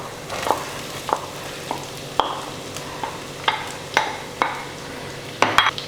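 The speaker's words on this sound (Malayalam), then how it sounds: "ഇനി നമുക്ക് ഇതിനകത്തോട്ട് അരിഞ്ഞു വെച്ചിരിക്കുന്ന സവാള ചേർത്ത് കൊടുക്കാം." Sliced onion being sautéed with fried coconut pieces for a Kerala-style pork dry fry, a spatula scraping and stirring in a pan roughly every half second over a steady low sizzle, close and alone with no talking.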